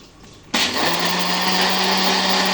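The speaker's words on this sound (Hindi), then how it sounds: "अब मैं अपने शरबत को अच्छे तरीके से ब्लेंड करूँगी।" After a brief quiet moment, a blender blending tamarind and plum sharbat switches on and whirs loudly and steadily at high speed.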